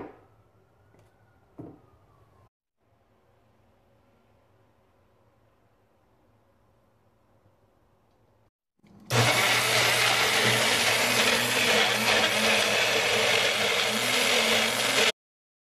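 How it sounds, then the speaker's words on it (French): A blender whirs loudly and steadily as it purées avocado, banana, egg yolk and olive oil, starting abruptly after a quieter stretch of faint background hum and running without a break until it cuts off. "Je m'apprête à mixer tout ça, j'ai déjà mis l'avocat là-dedans"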